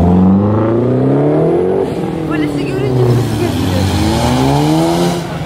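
A classic Ford Mustang revs hard at an American car show of modified cars, its loud engine note sweeping up and down in pitch. Voices talk over the engine.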